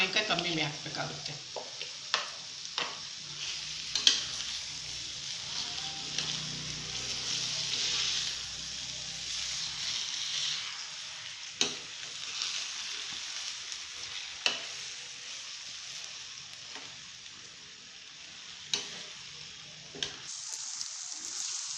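Raw Totapuri mango pieces fry and sizzle in a spice tempering in a pan for mango rice, a steady crackling hiss with occasional stirring clatters and faint talk nearby.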